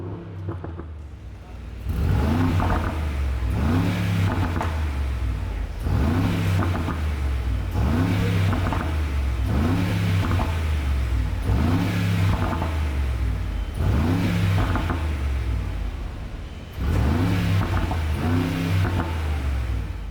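A 2023 Brabus G63 6x6 revs repeatedly in Sport Plus with exhaust valves fully open, about eight deep, rumbling throttle blips in a steady rhythm, loud and close, with no talk over them.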